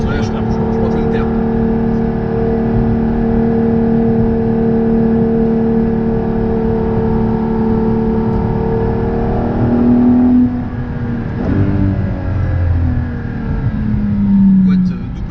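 Ferrari LaFerrari hypercar with seven-speed dual-clutch gearbox heard from inside the carbon cabin while driving, a loud steady engine drone that rises and shifts pitch near the end, with the driver speaking occasionally over it.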